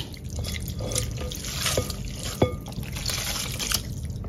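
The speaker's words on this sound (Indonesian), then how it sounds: "siapkan mangkok agak besar. Kemudian, masukkan jeli kelapanya" Coconut jelly is tipped into a large bowl, giving wet sloshing and soft dripping plops with a couple of distinct splashes, close and moderately loud.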